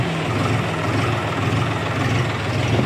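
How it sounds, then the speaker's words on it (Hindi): A tractor engine that has just started idles in a steady, close low rumble that holds evenly throughout. "तो फाइनली हमारा ट्रैक्टर चालू हो चुका है"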